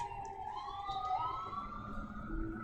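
An ambulance siren wails in the distance, its pitch rising and falling slowly over steady background rumble.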